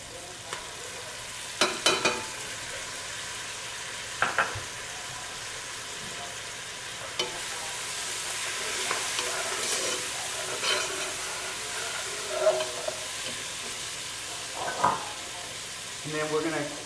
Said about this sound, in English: And then we're gonna cook the garlic for a few more minutes.